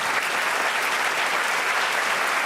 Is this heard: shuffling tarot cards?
no